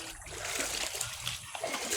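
Floodwater splashes and sloshes close by in short irregular bursts, with watery trickling between them and faint background noise.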